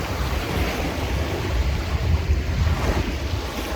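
Sea waves on a beach at a resort in Kemer, Turkey, a steady rushing wash of surf mixed with heavy wind buffeting on the microphone, loud and continuous without voices.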